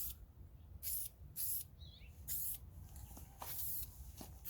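Short bursts of aerosol spray hiss in a quiet room as Brownell's Aluma-Hyde II coating is sprayed onto a rifle upper, several separate passes with soft clicks between them.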